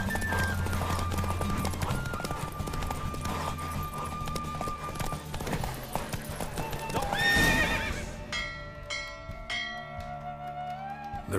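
Hoofbeats of the horse Roach racing in The Witcher 3 carry steadily under layered game music and effects, with whinnies near the end before the galloping gives way to softer chiming tones.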